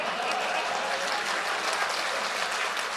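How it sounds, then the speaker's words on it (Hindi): Brief applause from an audience at an All India Mushaira poetry gathering in Vashi, Navi Mumbai, a dense, even clapping that holds steady for a few seconds. "2-3 तालियों का बहुत बहुत शुक्रगुजार हूं"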